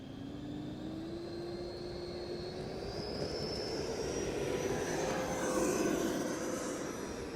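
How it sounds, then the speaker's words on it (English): An FPV model airplane taking off with a gradual flat run, its engine a steady buzzing drone that rises in pitch as it speeds up, fairly close and continuous with no talking. "We're gonna do a gradual flat takeoff here."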